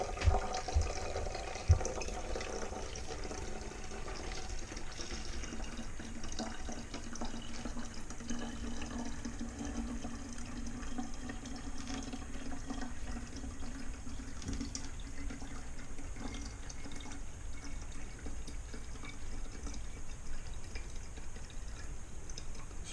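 Water running steadily into a tank at the build of a Lamborghini Countach kit car, a continuous close gush with a faint rising tone as it fills, after a couple of knocks at the start.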